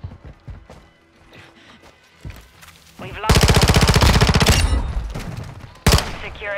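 Automatic gunfire in Call of Duty: Modern Warfare II, a loud sustained burst of rapid shots after quieter game sounds, then one more sharp burst near the end, with a player's voice talking over the action.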